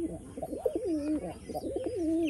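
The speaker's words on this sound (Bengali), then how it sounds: "এই একটা আপনার মুর্শিদাবাদি পায়রা, এটা হচ্ছে চটিয়াল আছে, একদম ফেমাস পায়রা" A Murshidabadi pigeon of the famous sarak bazi type coos close by in repeated rolling, warbling phrases, two rounds in quick succession with no talk.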